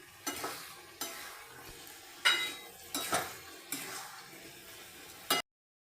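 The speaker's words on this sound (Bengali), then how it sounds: "পোস্তটা মিশিয়ে নিতে হবে তাহলে লাউ পোস্ত রেডি" Poppy seed paste being stirred into a cooked bottle gourd curry in a pan, with six distinct spoon scrapes and clinks against the pot over a soft sizzle, ending abruptly.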